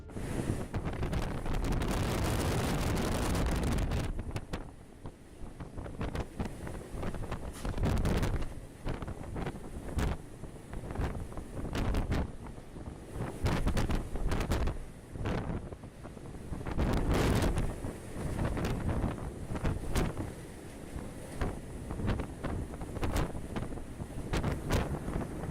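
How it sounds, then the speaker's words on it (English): Strong gale at sea, around 89 mph, roars across the microphone beside a ship in huge waves, loud continuous buffeting with repeated sharp gusts and crackling bursts over rushing water. "winds were traveling at 89 miles per hour"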